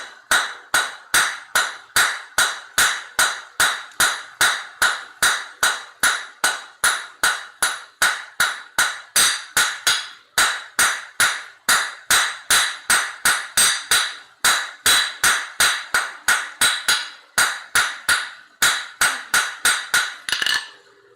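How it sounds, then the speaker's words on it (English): A blacksmith's hammer strikes 6mm round steel bar in a forge again and again in a steady, ringing rhythm, each blow bright and clanging, with brief pauses between runs of strikes. "I guess we'll have to see what the hammering sounds like"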